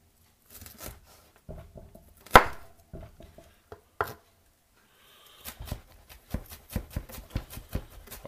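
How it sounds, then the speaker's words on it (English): A knife chopping food on a cutting board: sparse knocks at first, then a faster, regular run of close, crisp taps against the wood, with no voices. "So I'm going to chop these bad boys up."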